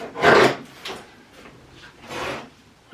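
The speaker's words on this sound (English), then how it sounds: "I will just cut open some of the tape" A blade slicing open packing tape on a cardboard box indoors makes a loud rasping rip, then a few fainter scrapes and a second longer drawn-out tear, all close by.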